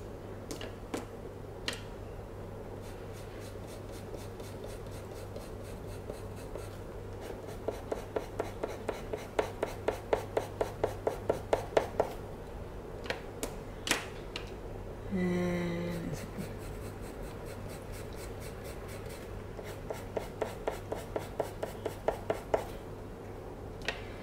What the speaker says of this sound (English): The best thing with colour pencils is building up the layers.